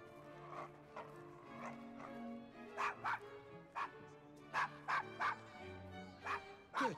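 A dog barks in Assassin's Creed Syndicate, a string of short, moderately loud yaps over a low game soundscape with light background ambience.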